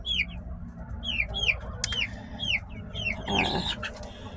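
Chickens in a coop built from wooden pallets and chicken wire: repeated close, bright clucks and short calls in a loose rhythm, with a brief burst of wing flapping near the end.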